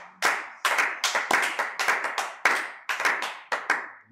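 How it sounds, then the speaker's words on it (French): A congregation at a prayer service claps to acclaim the Lord, a string of about fifteen loud, sharp hand claps in an uneven rhythm, close and with no talk. "Acclamons le Seigneur."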